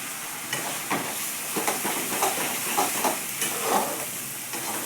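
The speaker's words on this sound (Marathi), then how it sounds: "फक्त थोडासा मिरची आणि लसूणच आपल्याला भाजावं लागेल" Chili and garlic roasting in a pan over medium heat, a steady close sizzle and hiss with soft scraping stirs surfacing every second or so, no voices.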